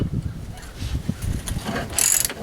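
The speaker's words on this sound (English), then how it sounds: "go ahead and tighten up our ball joint" Ratchet wrench tightening the ball joint nut (18 mm nut, 15 mm bolt) on a 2004 Chrysler PT Cruiser during front wheel bearing replacement; a close, steady run of clicking with brief louder bursts, no talk.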